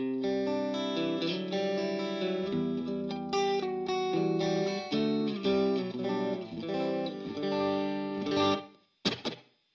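A single-coil electric guitar plays a clean melodic phrase through an HX Stomp set with light slapback reverb, notes ringing with a short echo before stopping abruptly.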